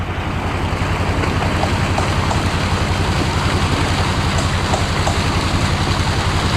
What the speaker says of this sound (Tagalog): Medyo nakabirit yung makina